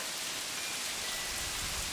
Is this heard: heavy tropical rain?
yes